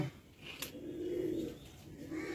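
Pigeons coo softly in a cage, a low, continuous purring murmur with faint rustling close by and no talk.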